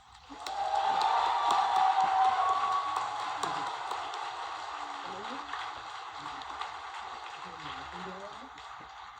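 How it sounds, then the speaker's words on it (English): Applause from a graduation ceremony audience at OSU Institute of Technology swells quickly, then slowly thins out, with a murmur of voices and scattered claps trailing off. "please join me in giving this outstanding group of graduates one more round of applause"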